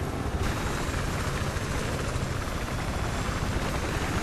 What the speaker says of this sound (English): They got a helicopter up.